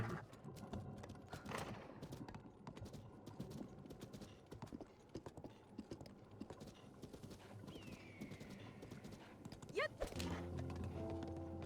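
Galloping horse hooves in a survival video game, a quick steady clip-clop rhythm that is quiet and continuous, with a whinny-like sweep near the end and brief talking over it.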